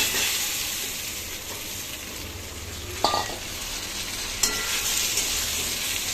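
Potatoes and pointed gourd sizzle in hot oil with cumin, a steady close frying hiss with a couple of sharp clinks of a utensil against the pan.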